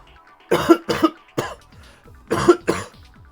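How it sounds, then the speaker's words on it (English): A person coughs repeatedly in close, harsh bursts, two quick coughs, a single one, then another pair, with short pauses between. "And this cough is still kicking my butt."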